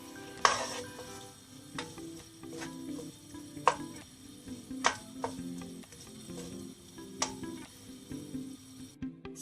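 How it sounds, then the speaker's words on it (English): Garlic frying slowly in olive oil over low heat, a soft steady sizzle with light clinks and stirring taps of a utensil against the pan, fairly quiet and close. "fry the garlic"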